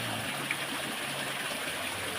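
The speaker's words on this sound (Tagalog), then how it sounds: "tubig dumadaan." Water flows steadily beneath a seaside cave, a continuous close rushing and trickling wash with no talk over it.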